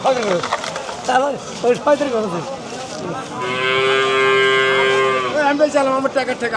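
A cow at a village cattle market in Bangladesh gives a long, loud moo in the middle, with people talking nearby before and after it.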